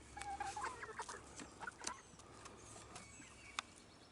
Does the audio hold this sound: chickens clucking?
yes